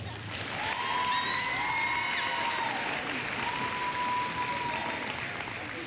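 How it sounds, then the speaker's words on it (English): A school sports ceremony audience cheers and applauds the varsity volleyball team, loud sustained clapping with whoops and shrill whistles rising over the crowd. "let's cheer for varsity volleyball"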